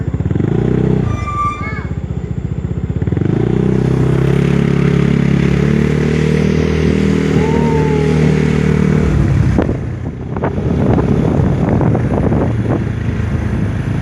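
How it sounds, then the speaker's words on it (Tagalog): A motorcycle out on a joy ride hums at a steady engine drone, mixed with wind buffeting for most of the ride. Near the end the drone drops off and gives way to clattering noise. "Sarap magmotor, no?"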